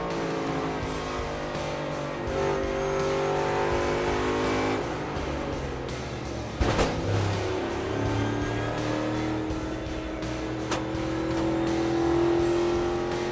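In-car NASCAR race car engine, loud and steady at high revs through a corner, with pitch dips and a sharp brief knock midway, heard alone.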